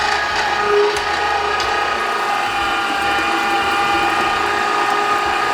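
An electric meat grinder switched on by a foot pedal grinds brisket, a loud, steady mechanical whir and clatter running unbroken at close range with no talk.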